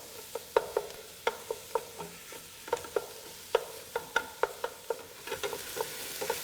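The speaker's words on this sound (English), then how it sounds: "And I break it up and get this cooked down until I get a lot of color." Ground pork frying in a pan for sausage and white bean soup, with a steady sizzle and repeated scraping taps as a utensil breaks up the meat, fairly close and with no talking.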